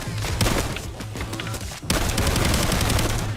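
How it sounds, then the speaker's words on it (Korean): Rapid DMR rifle fire in the heist game Payday 2, a loud, dense burst of close gunshots that breaks off for a moment and then resumes just as fierce. "총소리 다다다닥 들리죠?"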